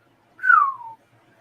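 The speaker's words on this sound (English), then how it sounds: "Don't whistle." A single short whistle slides downward in pitch, clear and close, against a quiet background.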